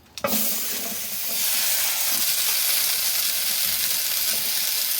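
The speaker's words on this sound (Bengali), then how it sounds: "এবার সামলাগুলো কড়ার মধ্যে দিয়ে দেবো অনেকটা তো রস উঠবে" Water lily stems dropped into a hot wok set off a loud, continuous hissing sizzle that swells after a sharp initial crackle and holds steady to the end, with no talking.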